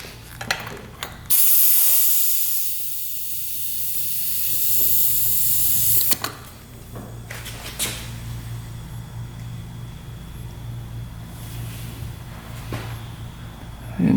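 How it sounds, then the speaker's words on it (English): Soapy water sprayed around a Honda dirt bike engine with a bogging fault gives a steady, close hiss lasting about five seconds, with the engine idling underneath and short spray bursts following. "We're going to try to spray some soapy water around here and see if we can see where it's coming from."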